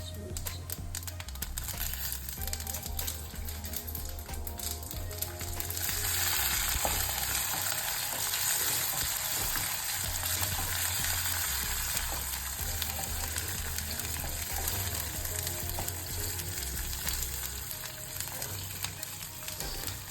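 Green chillies frying in a pan for a gooseberry chutney, a close crackling sizzle with stirring clatter that grows louder and denser partway through and keeps going steadily.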